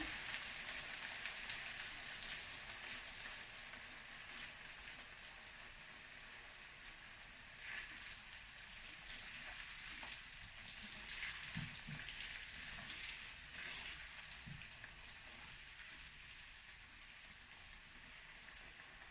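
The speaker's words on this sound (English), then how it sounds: "Now the oil is hot, we just throw in the tempeh." Tempeh fries in hot oil, producing a steady, close crackling sizzle that holds an even hiss throughout, with a few faint clinks of stirring and no voices.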